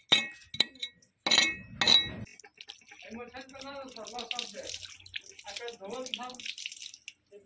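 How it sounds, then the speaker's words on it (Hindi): Water is poured and splashed to wash a hand pump part, with clinks of metal at the start and running water continuing while a person talks. "यहाँ से हम धुलाई कर देते हैं पानी डाल के"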